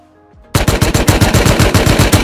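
Rapid automatic gunfire in a multiplayer shooter game bursts in loud and close after a moment of quiet, a steady rattling volley of about a dozen sharp shots with no talk.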